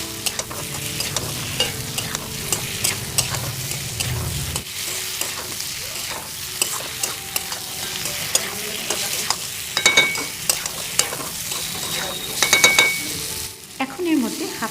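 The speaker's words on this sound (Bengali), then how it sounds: "এবার সবটা খুব ভালোভাবে কষিয়ে নেব।" About fifty grams of green peas are stir-fried in a kadai. A sizzle fills the first few seconds, then a spoon scrapes and stirs the pan in repeated close, sharp strokes, with no talking.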